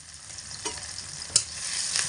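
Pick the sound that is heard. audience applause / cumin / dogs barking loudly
cumin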